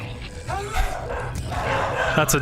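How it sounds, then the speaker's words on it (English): Dog-like creatures in the Dead Space Remake game give a few loud, close, ragged barks and yelps over a low rumbling background, with a voice talking among them. "Those are dogs."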